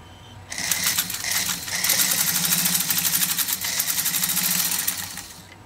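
A Singer 99K sewing machine stitches through a thick layer of genuine snakeskin leather, running steadily for several seconds with a fast, even mechanical clatter and rhythmic needle punching, close and fairly loud.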